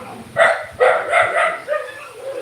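Several dogs on a street in the Philippines bark at another dog: a quick run of four or five loud, close barks, then a few fainter yips and whimpers trailing off.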